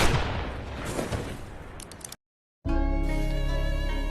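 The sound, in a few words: gunshot from a distance in a film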